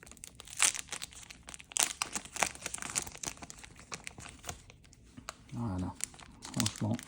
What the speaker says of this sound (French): on va voir si les paquets de cartes sont plus faciles à ouvrir que ceux de Magic